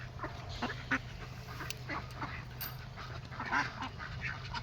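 Domestic ducks quacking repeatedly over a low steady hum, with overlapping, moderately close calls and faint background noise throughout.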